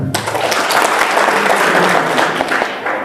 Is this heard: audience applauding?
yes